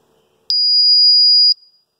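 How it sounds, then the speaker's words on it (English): A ToxiRAE Pro CO2 gas meter sounds its startup alarm: a single loud, steady, high-pitched electronic buzz lasting about a second, close and alone, with faint clicks after it stops. "The alarm lights and the buzzer will sound, and then the meter will go through its startup sequence."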